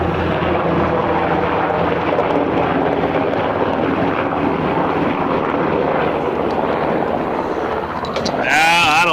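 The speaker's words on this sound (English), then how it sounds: "That sounds like a damn military Huey to me." A military Huey helicopter roars steadily overhead with a heavy, constant drone, loud and close, with a brief rising whine near the end.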